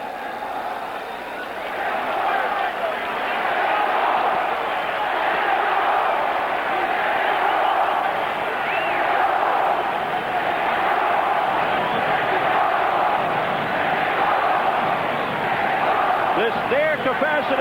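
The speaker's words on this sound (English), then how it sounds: "Capacity crowd chanting Mexico, Mexico as we begin the fight." A capacity boxing-arena crowd chants as a WBC super lightweight title fight between Julio Cesar Chavez and Angel Hernandez begins. The roar is loud and sustained, with a rhythmic rise and fall of massed voices throughout.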